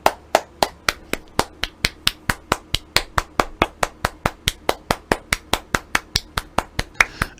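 Steady, evenly spaced sharp claps, about four per second, close and loud with no talk, sounding like stiff, somewhat awkward hand clapping that keeps a mechanical rhythm.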